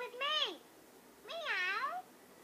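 A person imitates a cat with two drawn-out, rising-and-falling vocal meows, the second longer than the first, close and clear with quiet between them.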